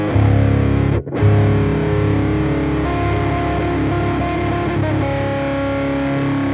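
Distorted electric guitar with an A Little Thunder pickup and low note priority off, a thick, muddy sustained chord ringing loud and close, briefly cut by a short gap near the first second before droning on steadily.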